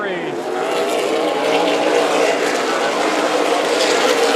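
Race cars battling through a turn at Stockton 99 Speedway, a loud, steady engine roar of several cars running together throughout, with commentary talking over it.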